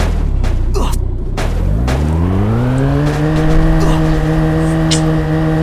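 A car in a video game drives loudly, engine tone climbing steadily as it accelerates and then holding at a high even whine, with some thumps early on and players talking over it.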